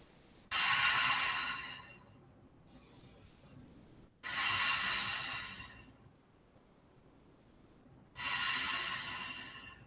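Slow, deep breaths in a yoga studio class during a Warrior 2 lunge: three loud, airy exhales arrive a few seconds apart, each fading gradually, with quieter breathing between them and no talking.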